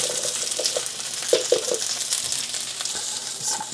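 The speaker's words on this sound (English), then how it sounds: "We're just gonna saute them." Vegetables sauteing in oil for Vietnamese shaking beef with ribeye steak, a steady soft sizzle with a few brief stirring knocks and scrapes, close by, with no talking.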